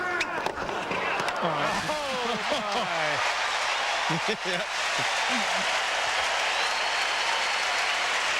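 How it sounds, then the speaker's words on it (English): A tennis crowd at the 2001 US Open roars after an Andre Agassi winner, a dense, sustained wall of cheering and applause that swells and holds to the end, with a commentator talking over the opening seconds. "Well, a huge eruption from the crowd, because no way did they think Agassi would even get to this."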